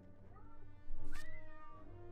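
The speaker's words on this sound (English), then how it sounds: "make loud meowing noises over and over again." A cat meows loudly and drawn-out in the video game Slay the Spire, its wavering cry rising then falling, close by with a faint hum underneath.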